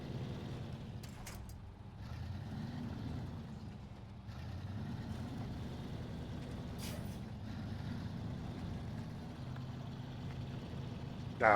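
A truck in the SnowRunner video game drives along with a steady low engine rumble and drone, holding even loudness throughout with a few faint clanks and a sharp hiss at the very end.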